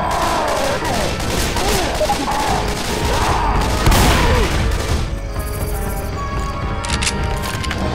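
Rapid gunfire from the Left 4 Dead 2 video game as players shoot zombies, dense bursts and booms running loud and continuous, easing toward the end with quieter game ambience.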